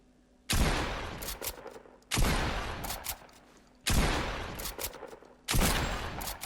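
Four bursts of SMG fire from Fortnite, each a loud, dense rattle of rapid shots lasting about a second and a half, separated by short pauses with no talking.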